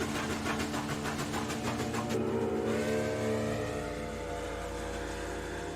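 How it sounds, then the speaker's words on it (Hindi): A loud Royal Enfield Bullet motorcycle engine roars close by at a railway station, a deep, steady, throbbing rumble that pulses at first and then settles into a continuous drone. "तभी वहां बुलेट की तेज आवाज गूंजी।"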